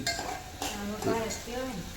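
Hot oil sizzles close by while a utensil scrapes and stirs in the pan, a steady frying hiss with clinks of metal.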